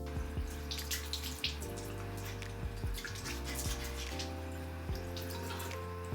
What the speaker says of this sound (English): it's time to wash off this face mask